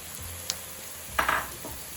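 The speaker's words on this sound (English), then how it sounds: "the onion and garlic has been frying for 2 to 3 minutes" Onion, garlic, carrots and leek sizzle in a pan with a steady hiss. A utensil stirs and scrapes through the vegetables in a couple of short, louder bursts, with no talking.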